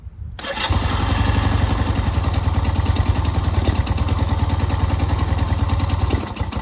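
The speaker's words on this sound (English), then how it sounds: "Turn the key to the first position, hit the electric start." A 1965 Honda CB160 motorcycle cold-starts on its electric starter at near choke, catching after a brief silence and running into a loud, rapid, steady idle close by, then cutting off near the end.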